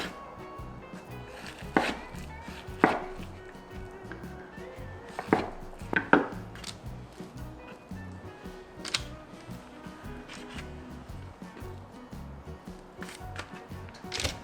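Knife cutting sweet potato into thick slices on a board, a handful of separate crisp chops spaced a second or so apart over quiet room noise.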